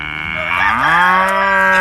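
A barnyard soundbite of a cow mooing, one loud, close, drawn-out low moo rising in pitch and then holding steady, heard alone.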